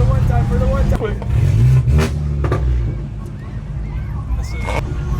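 BMW 330 CS with antilag revving hard in a few loud bursts with crackly pops, close up and outdoors under wind, while people talk excitedly over it.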